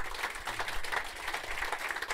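A studio audience at a celebrity talk show in Dinslaken gives steady, moderately loud applause. The clapping is a dense, even patter with no clear voices above it.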